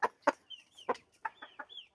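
Young chickens hatched in early November cluck in a string of short, sharp calls, about eight distinct clucks with thin chirps between, near and clear in a quiet setting.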